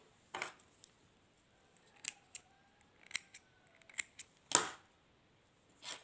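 Scissors snip through thread during a handmade flower craft, giving several crisp, close cuts scattered through a quiet stretch, with one louder snip near the end.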